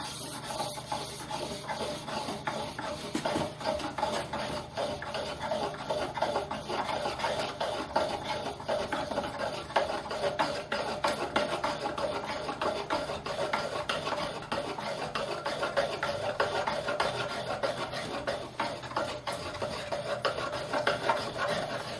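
A hand-pumped pump drill bores with a bamboo bit into pine, held down only by a light lid, giving a steady, continuous rasping and rubbing grind that runs close and even throughout, with no talking.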